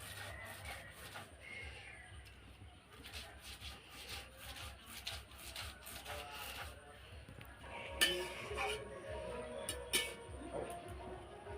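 Half an inch of ginger and eight or nine garlic cloves are ground together for a cabbage dish, giving a steady, close rasping and rubbing with occasional sharper clinks partway through.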